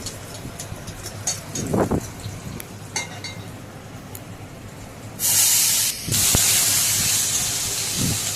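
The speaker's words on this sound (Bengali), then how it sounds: "এখন এর ওপর ভাতগুলো দিয়ে দেব। ভাতগুলো ভালোভাবে ভেজে নেব।" Cooked leftover rice with green chilies being fried in a wok, giving a quiet crackle with a few scraping stirs before a loud, steady hissing sizzle takes over for the last few seconds.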